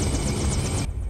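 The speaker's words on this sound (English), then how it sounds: "Chopper's coming in!" A helicopter sweeps close in a scene from the 1991 film Terminator 2, its rotor thumping in a steady, loud, rapid chop over engine roar before cutting off abruptly near the end.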